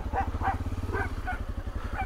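A large dog at a rural property barks in a rapid run of sharp woofs, close by, over the steady low rumble of an idling motorcycle engine.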